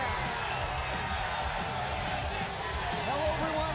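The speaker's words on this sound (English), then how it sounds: "You are looking at the largest live crowd in TNA wrestling history, and they are Texas-sized fired up for Lockdown." Record wrestling crowd roars in the Alamodome at TNA Lockdown, a steady wall of cheering and whooping that fills the arena and stays loud and constant throughout.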